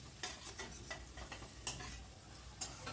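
Soft tomato masala is stirred in a pan after the lid comes off, a few light scrapes and taps over a low, steady sizzle, close and fairly quiet.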